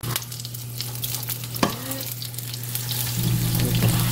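Mozzarella cheese pancake batter fries in an oiled pan, a close, steady sizzle with a few clinks and scrapes of a utensil, the frying growing a little louder toward the end.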